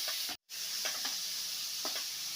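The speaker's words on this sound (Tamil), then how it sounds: "இது நல்லா ஃப்ரை ஆகட்டும்." Chopped onions frying in a pan for Kerala-style karimeen polichathu, a steady sizzle with a few soft stirring scrapes, close and alone, with a brief dropout near the start.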